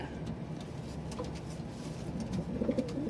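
Pigeons from a second clutch coo in soft, low, throaty bursts that grow clearer toward the end, over a faint background hum with no talking.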